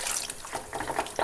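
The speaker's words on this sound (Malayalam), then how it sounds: "ഇതിലേക്ക് 1 കപ്പ് വെള്ളം ഒഴിച്ച്" A cup of water is poured into a pot of Kerala-style sardine and tapioca curry, a brief close splashing gush with gurgling bursts.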